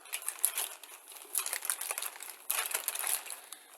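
A plastic Amazon shipping bag crinkles up close in a series of sharp, irregular rustling bursts, handled alone with no other sound.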